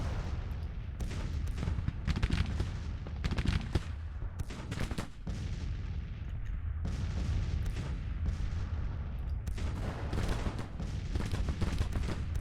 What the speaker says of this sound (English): Heavy bombardment by Donavant